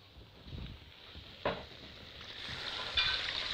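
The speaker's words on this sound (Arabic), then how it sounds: "نقلب كده تقلبتين" Mallow leaves (khobeiza) are stirred in a pan, a faint sizzle under soft rustling with a few distinct scraping strokes spaced a second or so apart, close-up and quiet.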